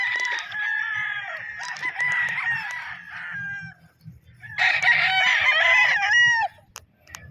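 Roosters crowing at a chicken farm, two long loud crows close by with clucking and other fowl faintly underneath, separated by a short pause.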